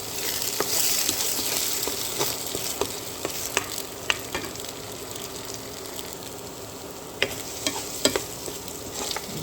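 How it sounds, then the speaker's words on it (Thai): Garlic, onion and eggs frying and being stirred in a pan for Thai egg fried rice, a steady close sizzle broken by sharp spatula scrapes and clicks throughout. "ผัดกระเทียมผัดหอมใหญ่นะคะ แล้วก็ใส่ไข่ลงไป"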